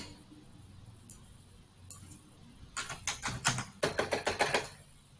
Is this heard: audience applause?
no